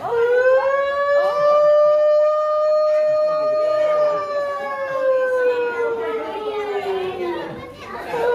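A wailing siren tone holds steady, then slowly falls, with strong harmonics, a sound associated with a fire engine. Children chatter and shout underneath throughout.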